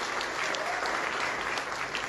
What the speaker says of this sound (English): Let's clap for the teachers, just teachers.